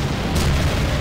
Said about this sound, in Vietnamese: Bây giờ chúng ta sẽ tiêu diệt con quái thú này bằng khẩu đại bác.